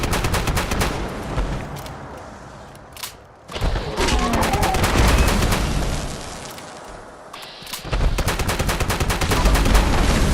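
Rapid bursts of gunfire from the Cold Shoulder weapon in Fallout 76, loud and dense with brief pauses between volleys.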